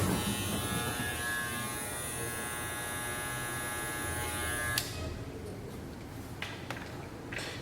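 An Andis T-Outliner electric hair clipper runs with a loud, close, high-pitched buzz for about five seconds, then switches off, leaving low background noise with a couple of faint clicks.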